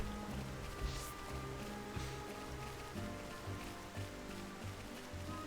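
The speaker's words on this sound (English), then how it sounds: "Also, it is raining." Steady rain falling in the Xenoblade Chronicles video game, a soft continuous patter heard alone under faint game music, with no one talking.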